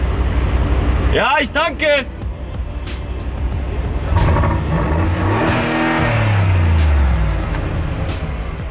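A sports car engine revs hard in a few quick bursts, then settles into a deep, steady rumble with people talking over it.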